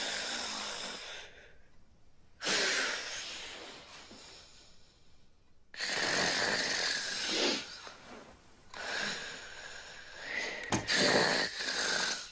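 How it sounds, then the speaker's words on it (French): A person snores loudly in a bedroom, long rasping inhalations repeating in slow, uneven cycles with quieter breathy gaps between them, close and alone without talk. "Vous savez que vous ronflez?"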